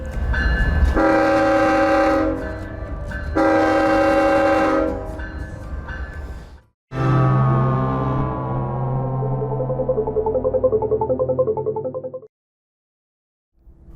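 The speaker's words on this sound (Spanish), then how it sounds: "Un tren de tolvas vacío, mejor conocido como carrusel, se acerca con 5 locomotoras" Long blasts of a train horn ring out, then the rumble and clatter of an empty hopper freight train with five diesel locomotives passing close by in Mexico, fading abruptly near the end.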